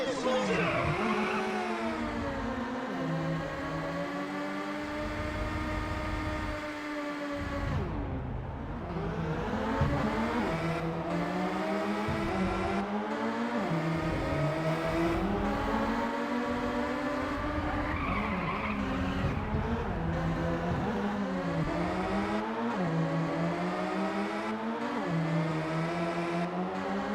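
In the racing video game Ridge Racer Type 4, a race car engine whines and revs continuously, with pitch sweeping up and down through gear changes and repeated tire skids through corners.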